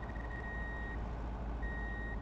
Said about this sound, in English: the old beep doesn't know whether I'm going backwards quick enough to activate